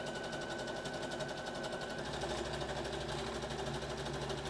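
A sewing machine hemming a bright fuchsia viscose kimono wrap dress runs steadily throughout, a close, continuous rapid stitching whir with no talk.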